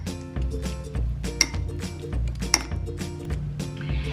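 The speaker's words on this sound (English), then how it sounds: "stir all that up" A spoon clinks and scrapes around a bowl as food with sprinkled chicory powder is stirred, a steady run of close, light metallic taps and knocks repeating every half second or so, with two sharper clinks standing out.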